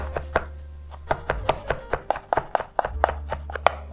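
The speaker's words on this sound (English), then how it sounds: "Just roll it up tightly, and then we'll give it a fine cut." A knife finely chops tightly rolled basil leaves on a board for tomato soup, giving a brisk run of sharp, evenly spaced chops that are close and clear.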